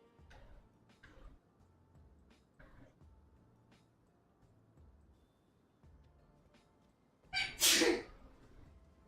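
A single loud, sharp sneeze bursts out near the end, close and sudden against a quiet background of faint ticking and soft room noise.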